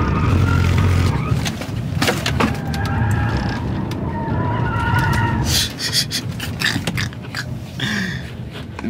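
A car spinning out with tires skidding and screeching, loud and sustained under a revving engine, with scattered shouts and voices nearby amid a busy outdoor crowd.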